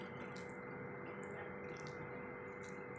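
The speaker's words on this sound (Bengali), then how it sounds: "এবার আমি চিকেনের গুলো লম্বা লম্বা করে আমি এখানে ছেড়ে দিলাম" Chicken strips slide into hot, lightly oiled water in a wok, giving a faint, steady watery hiss and bubbling with a few soft splashes throughout, no talking.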